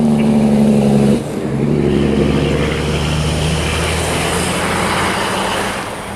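A heavy truck rumbles past nearby on a trolley trail road, its deep engine drone rising then easing off into a steady roar of road noise.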